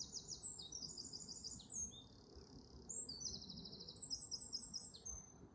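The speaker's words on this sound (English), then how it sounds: "I think it's a blackbird." A blackbird sings outdoors, its clear fluting phrases coming in repeated bursts over steady low background noise, moderately near and without any talk.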